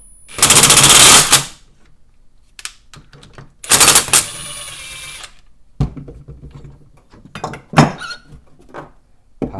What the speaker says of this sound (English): you can use 2 wrenches, or in my case, I'm going to use my impact.